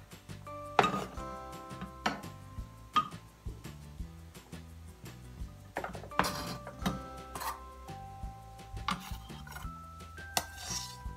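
Chopped butternut squash pieces scooped into a blender, heard as a sequence of close clattering knocks and scrapes of utensil against container, irregular and separated by brief pauses, with no talk.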